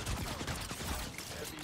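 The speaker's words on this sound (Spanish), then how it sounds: "No sé dónde me están pegando ahora mismo los tiros." Rapid gunfire from a Marvel Rivals match as Iron Man, dense and continuous throughout, with loud bursts of shots layered over other game effects.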